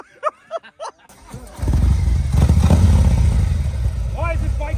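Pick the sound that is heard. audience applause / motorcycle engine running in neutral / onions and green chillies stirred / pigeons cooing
motorcycle engine running in neutral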